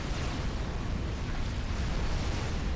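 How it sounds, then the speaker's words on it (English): Bombers in a strategy video game set off a dense, continuous rumble of overlapping explosions. The blasts blend into one steady, loud roar that holds without any clear gaps. "the bombers are just friendly firing"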